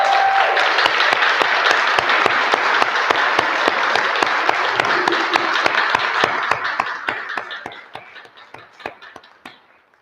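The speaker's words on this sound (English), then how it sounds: "let's give these people an applause" A crowd at a mass communication awards ceremony applauds a student class, dense steady clapping that holds loud for several seconds before tapering off into a few last claps.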